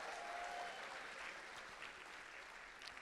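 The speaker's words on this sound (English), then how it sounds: "And Marty Markowitz, let's give him a round of applause." An audience at a borough address applauds steadily throughout, a dense, even wash of clapping heard from a moderate distance with no talk over it.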